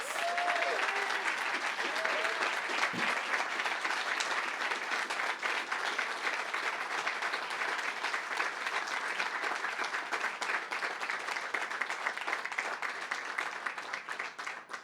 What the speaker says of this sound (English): A big round of applause to our Congressman, Tony Cardenas